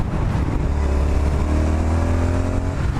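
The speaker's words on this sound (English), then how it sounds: "I'm going to drop it down a cog and I'm going to rev it." Triumph Street Scrambler motorcycle fitted with new exhausts, revved in a lower gear, giving a loud, steady engine drone with a deep low rumble that holds throughout without a break.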